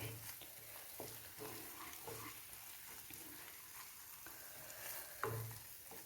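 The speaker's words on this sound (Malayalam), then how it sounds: "ഇനി നമുക്കൊരല്പം കറിവേപ്പില ഇട്ട് കൊടുക്കാം" Curry leaves frying in oil for a coconut-ground mackerel fish curry: a steady sizzle and crackle with occasional stirring scrapes and a sharper spatter near the end, close and without talk.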